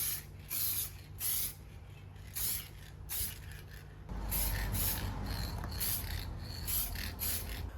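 Light coat of spray-can paint applied to a rusty Nissan R34 Skyline, heard as short rhythmic bursts of hissing spray, then a longer steady spray, close and fairly quiet.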